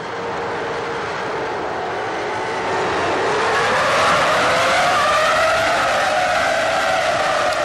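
Formula 1 cars launching at the start of the Spanish Grand Prix in the F1 2002 video game, a loud dense roar of many engines rising in pitch together as the pack accelerates, no talk.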